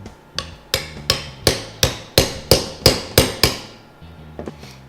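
Old worn bushings are hammered out of a 1957 Ford F100 steering box with about ten sharp, evenly spaced metal blows close to the mic, followed by a few lighter taps.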